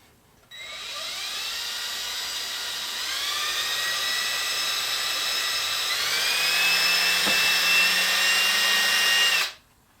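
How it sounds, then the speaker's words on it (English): A power drill whines steadily as it bores a through hole in the side of a wooden picture frame, close and continuous for about nine seconds, its pitch rising slightly partway as the bit works through the wood. "we're going to drill a through hole right through the side of"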